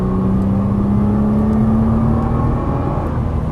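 An Audi race car accelerating on a track, its engine droning loudly and steadily with a slowly rising pitch as it pulls, heard from on board without speech.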